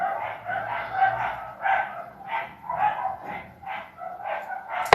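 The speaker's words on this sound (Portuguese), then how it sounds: "Até os cachorros estão latindo lá fora." Dogs bark outside in a series of repeated woofs, roughly one or two per second, somewhat distant and fairly loud, with no talk over them.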